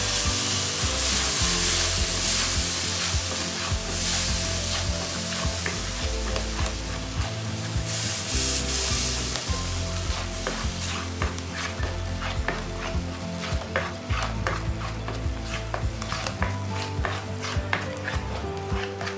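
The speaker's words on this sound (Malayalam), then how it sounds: "ഈ മാങ്ങയൊന്ന് ചൂടാക്കിയെടുക്കണം" Mango pieces heating in a pan for mango coconut ladoo, with a loud continuous sizzle and repeated scraping, clattering stirring strokes against the pan, heard close with no talking.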